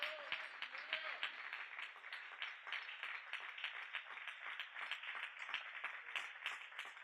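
A church congregation claps during a worship service, rhythmic and fairly distant, with a voice faintly present at the start.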